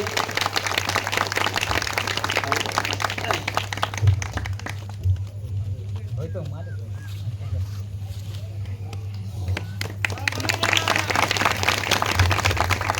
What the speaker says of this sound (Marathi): जोरदार टाळ्या त्यांच्या ठिकाणी